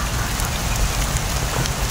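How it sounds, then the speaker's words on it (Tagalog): Heavy rain pours steadily in a horror video game, a dense, continuous wash of downpour filling the short stretch without any voices. "Patay, lumakas yung ulan."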